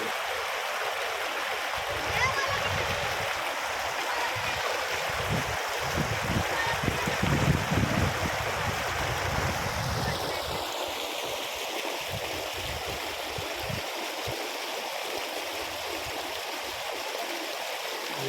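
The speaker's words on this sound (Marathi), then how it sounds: "पाण्याचा आवाजच जबरदस्त वाटतो" River water pours over a small weir in a village setting, a loud continuous rushing roar that holds steady throughout, with faint voices mixed in underneath.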